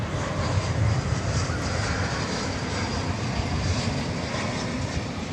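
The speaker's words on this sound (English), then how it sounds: "We have an American Airlines plane coming in from, is this Vegas?" An American Airlines passenger plane lands at DFW Airport at night, arriving from Las Vegas, its engines giving a loud, steady roar that holds for the whole stretch, with no voices over it.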